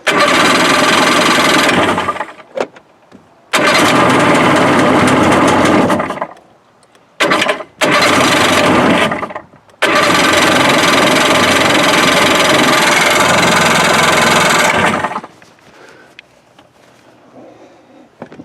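Rebuilt Sea-Doo GTX 657 personal watercraft two-stroke engine firing in loud bursts: a couple of short runs, stumbles and quick restarts, then a sustained five-second run before it dies into near silence.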